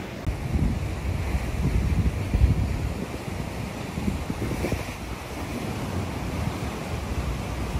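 Calm sea waves wash steadily against a harbour wall at Puerto de la Cruz, Tenerife, a soft continuous rumble of surf mixed with light wind noise across the microphone, with no voices.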